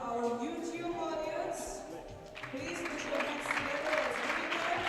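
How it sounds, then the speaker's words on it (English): An audience applauds at a women's air pistol medal ceremony, steady clapping that swells midway, heard beneath an announcer's voice. "that applause is for you"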